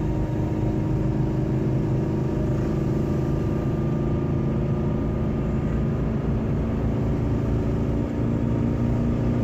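Jeep Liberty diesel towing a trailer up a hill from a standstill, a loud continuous low engine drone and road rumble that holds steady throughout, heard from inside the cab.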